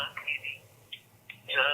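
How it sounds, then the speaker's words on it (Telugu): A telephone call rings through on a phone line, giving short buzzy tones separated by pauses, with a brief burst of voice at the end. "కాల్ చేసేస్తానండి అరుణకి."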